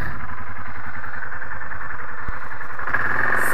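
An ATV engine runs steadily and close up during an outdoor ride, a loud continuous drone with a brief knock near the end and no talking.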